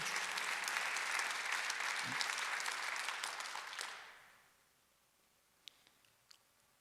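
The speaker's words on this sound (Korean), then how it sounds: "박수하세요" A congregation applauds during a Sunday church service, with dense clapping for about four seconds that dies away into a quiet room, followed by a couple of faint isolated taps.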